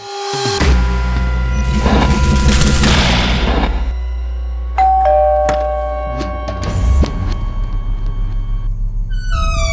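A loud doorbell chimes out its ding-dong tones amid deep booming rumbles and dramatic crashes, with no voices.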